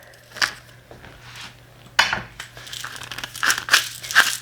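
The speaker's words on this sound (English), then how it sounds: "Fresh cracked pepper" Black pepper freshly cracked with a hand grinder, a series of short, close, dry crunching and grinding bursts, irregular and fairly quiet with gaps between twists.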